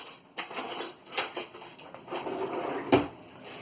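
A spoon and other kitchen utensils clatter and clink in a home kitchen during homemade pizza prep, with several scattered light knocks and scrapes and one sharper clank near the end.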